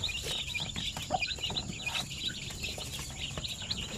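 Basilan and Shamo Aseel chicks peep and cheep continuously in close, busy overlapping calls. Soft clucking from nearby chickens runs underneath.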